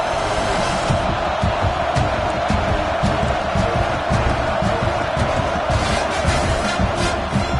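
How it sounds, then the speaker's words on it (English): Stadium crowd at a college football game, Texas A&M against Ohio State, roaring in a loud continuous wall of noise with scattered sharp claps and whoops throughout. "The roar of the crowd trying to fuel this defense to keep them pinned in their own end."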